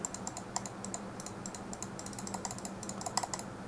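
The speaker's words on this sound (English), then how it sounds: "let's give you guys a sound test. Left click," Endgame Gear XM1r gaming mouse buttons clicking one after another in a steady series of sharp, close, light clicks, with no talking.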